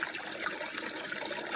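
Water runs steadily through a 30L wet plant used for extracting gold from fine crushings, a constant close hiss and trickle with no pauses and no voices.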